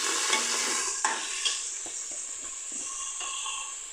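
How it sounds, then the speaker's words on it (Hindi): Chicken feet sauté with garlic-ginger paste in a pot for a street-style chicken yakhni broth, giving a steady close sizzle with occasional sharp clicks of a spoon stirring against the pan. "लहसुन अदरक के पेस्ट में जो है हम इसको थोड़ा सौते करेंगे।"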